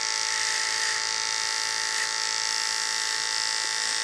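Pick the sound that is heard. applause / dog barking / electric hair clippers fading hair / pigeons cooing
electric hair clippers fading hair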